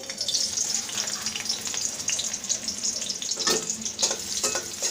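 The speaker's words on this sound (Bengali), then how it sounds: "পেঁয়াজটাকে আমি একটু হালকা ভেজে নেব" Chopped medium onion fries in two tablespoons of oil in a wok, giving a loud, steady sizzle with bursts of stirring and scraping near the end.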